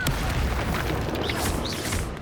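Incendio fire spell blast in the Hogwarts Legacy video game, a sustained roaring, crackling burst of flame that fills the whole moment at steady loudness.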